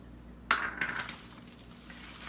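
A utensil clinks against a bowl, then scrapes and stirs while garlic powder is mixed into a raw meatloaf mixture; one sharp clink is followed by softer, fading mixing sounds.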